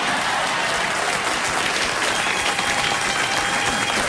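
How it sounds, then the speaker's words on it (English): A late-night talk show studio audience bursts into thick, steady applause, a loud and even wall of clapping from many hands that holds without pause. "they give you a round of applause now"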